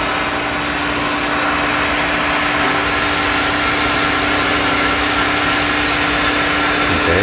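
A Mazak Smooth G milling machine traverses along an axis, a steady, fairly loud mechanical drone with a constant whine running through it and no voices.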